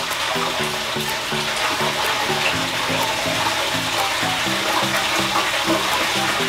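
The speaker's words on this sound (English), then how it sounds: "When it's about halfway full, I like to turn my filters back on just to get that water cycling." Two FX6 aquarium canister filters with valves half open push water back into a half-refilled tank, making a steady rushing flow of water over a constant low mechanical hum, close and unbroken.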